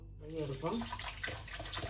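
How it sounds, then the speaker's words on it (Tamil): Soaked dried anchovies are rinsed in water at a kitchen sink, giving soft running and splashing water close by for a couple of seconds, with a brief voice near the start. "நல்லா ஊறி வர நெத்தலியை கழுவி எடுப்போம்"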